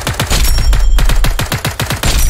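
Rapid automatic fire from the Alight Rifle in a Roblox pet-simulator shooter game, about a dozen loud punchy shots in quick rhythm with a brief pause midway.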